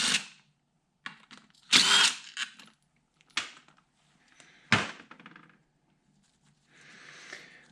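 A power tool, likely an impact driver, backs out half-inch bolts on a Onan B43G engine from a John Deere 318 tractor: several short, loud whirring bursts separated by quiet gaps and small clanks.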